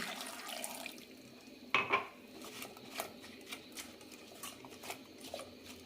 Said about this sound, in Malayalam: ഏകദേശം ഒരു അരമുക്കാൽ കപ്പ് വെള്ളം ഒഴിക്കാം